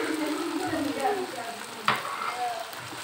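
Chicken and green beans fry and get stirred in a pan, giving a steady close sizzle with scraping stir strokes and one sharp clack near the end.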